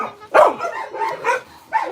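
Dogs at an animal shelter giving short, loud, close barks and yips, several separate bursts in quick succession with whiny tones between them.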